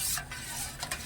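Cold milk mixed with cornflour and sugar is stirred in a pot, a soft steady scraping swirl close by with a couple of brief brighter strokes, no talking.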